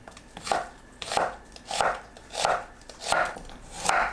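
Knife slicing onion into half-centimetre slices on a cutting board, six steady rhythmic chopping strokes about every 0.65 seconds, close and clear with no talk.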